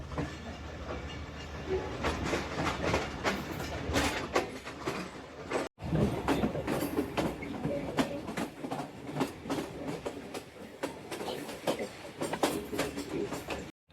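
A train pulling out of Kala Khatai station in Pakistan on the slow Lahore to Narowal line, heard from inside with steady rumbling and rhythmic clickety-clack of wheels over rail joints, a brief dropout midway.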